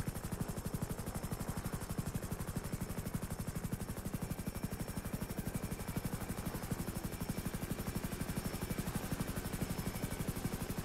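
Police helicopter in a video game roleplay, its rotor giving a steady, loud rapid chop throughout, close and continuous with no speech.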